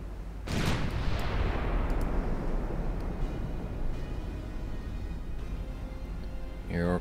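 Warship guns in Ultimate Admiral: Dreadnoughts fire at long range, a single heavy boom near the start that trails off into a long rumbling decay, with a second sharper report at the very end.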